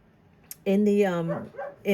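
A German Shepherd barks in a backyard, with a couple of close, loud woofs and a short whimpering yip, heard in brief bursts between quieter moments.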